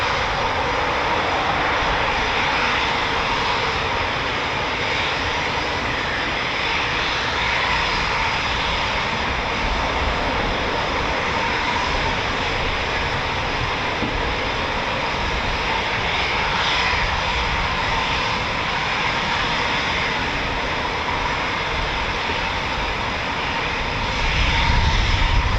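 A Eurofighter Typhoon FGR4 jet taxiing at an RAF station gives a steady, loud engine roar that holds throughout and swells slightly near the end.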